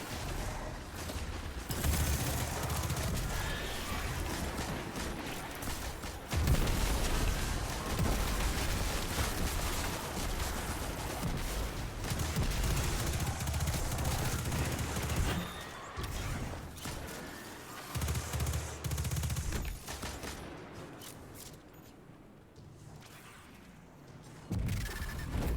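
Rapid gunfire from a weapon in the shooter game Destiny 2, a dense, loud stream of bursts and impacts running nearly continuously with brief lulls and crashes.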